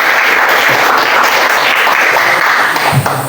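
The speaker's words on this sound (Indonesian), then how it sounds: "Baik, kita berikan tepuk tangan untuk Hugo." Classroom applause for a student named Hugo during a teacher-training lesson: dense, steady clapping from a group of students, loud and continuous throughout.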